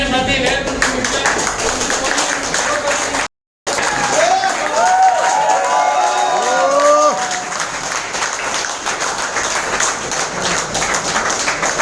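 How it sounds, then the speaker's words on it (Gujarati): An audience applauds loudly at a business meeting in a hotel hall in Maninagar, Ahmedabad: dense, sustained clapping fills the room, with crowd voices mixed in and one brief break partway through. "તો જોરદાર તાળીઓ સાથે"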